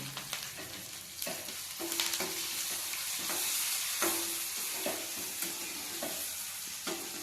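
Finely chopped green chillies fry with browned onions and curry leaves in a pan, a steady close sizzle punctuated by regular spatula scrapes and taps, no voices.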